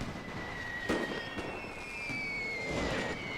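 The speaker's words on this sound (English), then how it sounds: "Cannon and gunfire raining down on the poor souls that were trapped in here within seconds" Cannon and gunfire in a World War I strategy game battle, a Russian Empire campaign against the Austro-Hungarian army: scattered sharp booms and cracks over a steady rumble with faint whistling tones, and no talk.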